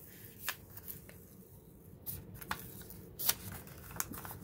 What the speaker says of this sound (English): Take it easy when you're peeling it back.